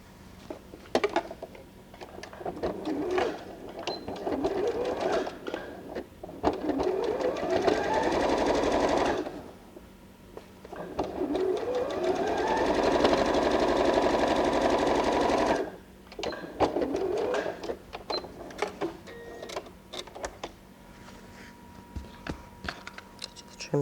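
Sewing machine stitching scrap fabric for a patchwork cushion, two sustained whirring runs with rising pitch, surrounded by lighter clicks and fabric handling.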